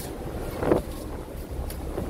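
Strong wind buffets the microphone outdoors on a trip to Al Hoceima, producing a continuous low rumbling roar with a brief louder gust, and no voices.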